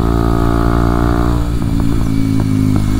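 A 2023 Kawasaki KLX 230SM motorcycle engine runs loud and close, holding a steady idle drone before breaking into a series of short, sharp revs with clattering mechanical texture, no talking.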